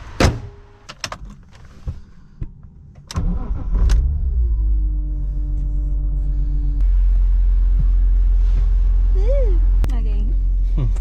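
A BMW E46 M3 starts up and idles with a deep, steady rumble, preceded by door and cabin clunks, the engine note holding loud and close as it sets off on a test drive.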